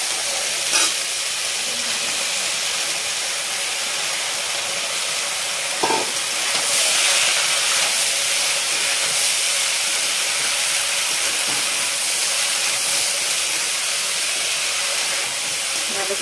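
Banana flower frying in a pan after being cleaned and added to oil, giving a steady hiss and sizzle throughout with a few brief clinks from stirring.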